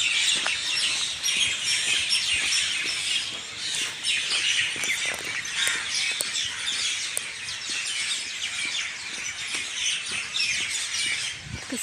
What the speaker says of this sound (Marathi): पक्ष्यांचा आवाज किती छान येतो.